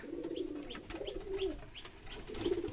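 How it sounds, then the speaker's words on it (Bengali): A racing pigeon in a loft coos in a repeated rhythmic series of soft, low calls, close and alone with faint background noise. "আর এই আমার রেসার কবুতরটা অনেক ডাকাডাকি করে"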